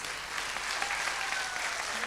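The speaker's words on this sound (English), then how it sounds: "Big round of applause to Mrs. Anushiva." An audience applauds at a dance recital, with steady, dense clapping throughout and a voice speaking faintly underneath.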